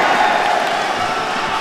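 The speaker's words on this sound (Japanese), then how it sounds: "場内からは大歓声" A crowd roars in the arena at a professional Shooto MMA fight at Echigo Fujin Matsuri 11, a steady, loud, broadband cheer filling the space without letup.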